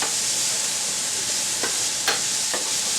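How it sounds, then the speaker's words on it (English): Onion and garlic sautéing in a pan give a steady close sizzle with a few brief stirring scrapes, with no talking. "So I'm just going to saute the onion and garlic, like I said, until it softens a bit, starts to sweat."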